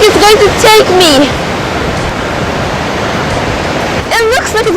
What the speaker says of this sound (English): All those waves are coming like it's going to take me.